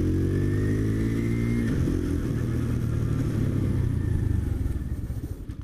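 A budget new motorcycle engine runs steadily up close, a mid-pitched idle with a clattery mechanical texture and a brief shift in tone partway through, then slowly fades toward the end.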